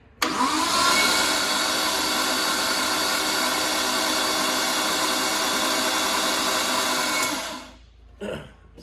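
A Nissan RB25DET engine in an R33 cranks over on the starter to build oil pressure, a steady whirring churn held for about seven seconds before cutting off, with a brief clunk after.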